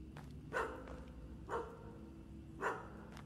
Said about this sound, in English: Is there a dog in here?